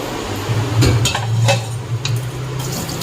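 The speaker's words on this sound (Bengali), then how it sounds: "ও কড়াইটা ধুতে হবে কড়াইটা ধুয়ে নিই" A wok (kadai) being washed in a home kitchen, with metal scraping and clanking of the pan against dishes in a steady run of close, fairly loud knocks and rubs.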